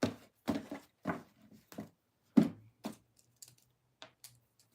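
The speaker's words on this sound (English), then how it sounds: "Final shuffle." Tarot cards being shuffled for a final time: a handful of quiet, separate taps and flicks that thin out toward the end, heard alone with no talking.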